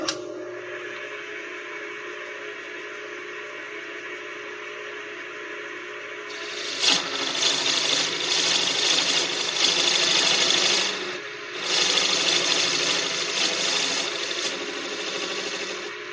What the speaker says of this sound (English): Now I am being fairly aggressive with my turning, but I'm cheating with a machine lathe.